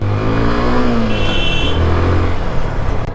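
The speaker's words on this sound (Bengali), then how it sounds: "ইঞ্জিনের সাউন্ড শুনছেন আপনারা" Second-hand motorcycle engine revving close by, a loud steady drone that rises and falls in pitch as the throttle is worked, with no talk.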